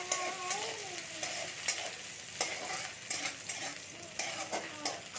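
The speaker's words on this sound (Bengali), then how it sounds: "এর মধ্যে আমি কাঁচা লঙ্কাটাকে ছোট ছোট করে কুচিয়ে রেখেছিলাম সেটাও দিয়ে দিলাম এটাকে একটু ভেজে নেবো" Chopped green chillies and garlic sizzle in hot oil for a garlic chilli potato dish, a steady close fry broken by intermittent scraping stirs, with no voices.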